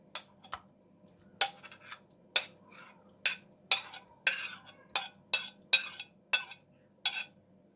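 A spoon stirring eggplant into strained yogurt with grated garlic in a bowl: a dozen or so sharp clinks against the dish in an uneven rhythm, close and fairly quiet, over a faint low hum.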